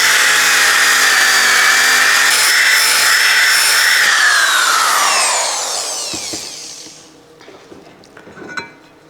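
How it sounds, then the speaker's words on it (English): A DeWalt orbital sander runs loud and steady as it sands the table of an old drill press under restoration, its tone dropping as it winds down, then a few faint clicks and handling knocks. "I'm sanding the table of this with my DeWalt orbital"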